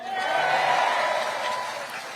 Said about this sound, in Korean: 우리 현역 아닌 분들한테 더 박수 많이 쳐주세요